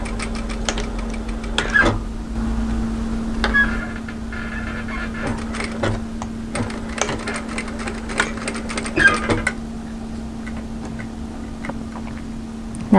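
A sewing machine sews the side seam of a peplum camisole top with a back tack, giving a steady low motor hum dotted with scattered ticks and clicks, close and without talk.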